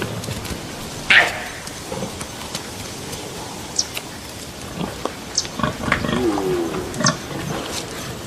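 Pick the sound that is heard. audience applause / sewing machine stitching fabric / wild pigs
wild pigs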